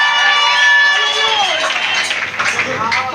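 A church congregation at a Sunday service acclaiming the Lord, a sustained crowd roar of voices and applause filling the room, loud and continuous.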